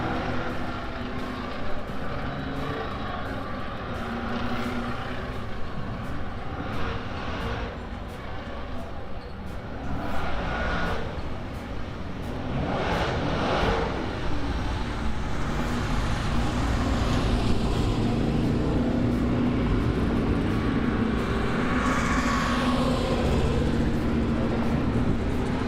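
V8 Masters race cars running on a circuit at a Power Series round, a continuous loud engine roar with passing swells and broadband road noise throughout, no clear speech.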